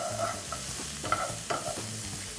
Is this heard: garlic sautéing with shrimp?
yes